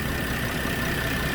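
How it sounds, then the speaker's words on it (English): A 2018 Porsche Cayenne Platinum Edition with the 3.6 litre engine running smoothly at a steady idle, a close, even hum with no speech over it. "That's the good old Volkswagen Touareg motor right there."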